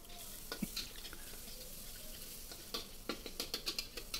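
Spice paste with a teaspoon of grilled shrimp paste sizzles and fries in a pan while a spoon stirs it, soft scraping taps over a steady low sizzle.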